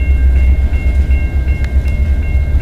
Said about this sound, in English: Now we got CNA 435 switching in the yard.